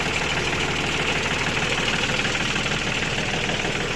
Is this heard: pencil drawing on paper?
no